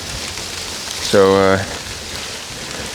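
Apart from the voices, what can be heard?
hail falling heavily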